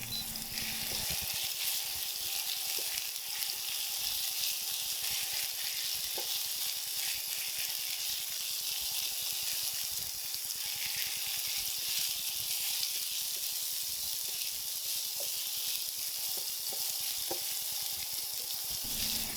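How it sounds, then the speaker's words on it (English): Garlic sizzles steadily in a pan over lowered heat while making jjapaguri, a constant close frying hiss with faint occasional clicks and no talk. "Lower the heat to make sure the garlic doesn't get burned."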